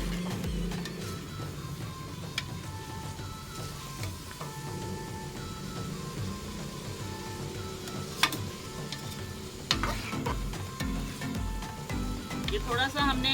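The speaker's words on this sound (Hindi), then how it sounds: "भूनना है गोश्त को और लहसुन अदरक का जो पेस्ट डाला है उसको और प्याज को" Meat frying with garlic-ginger paste and onion for aloo gosht, with a continuous sizzle and occasional stirring scrapes and clinks, heard close and moderately loud.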